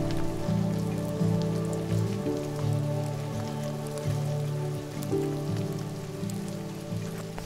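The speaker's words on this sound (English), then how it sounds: "First day, and it's raining." Steady rain patters on a mountain hiking trail to Everest Base Camp, with dense close drops on the surface and low rumbling undertones throughout, no voices.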